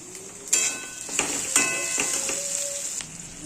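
A spice paste of cumin, turmeric, coriander and Kashmiri chilli hits a hot pan and sizzles loudly and steadily, with a few sharp bursts and faint stirring scrapes.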